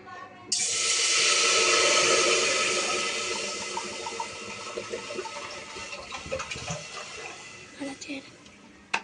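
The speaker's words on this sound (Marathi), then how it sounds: "सर्वात पहिले आपण याच्यात टाकूयात पाणी." Water pours steadily from a bottle into a cooking pot of mixed pav bhaji vegetables including capsicum and tomato, a loud bright rushing that fades over several seconds into lighter splashes and clinks, close by.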